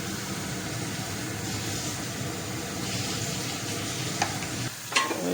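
Prawns fry in a pan with spices, turmeric and salt, a steady close sizzle with soft stirring scrapes and a couple of brief knocks near the end.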